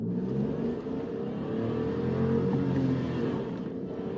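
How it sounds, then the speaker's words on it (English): A Dacia Sandero's small turbocharged engine accelerates steadily, its rising drone joined by a faint turbo whistle, loud and continuous with no talking. "You can hear the turbo,"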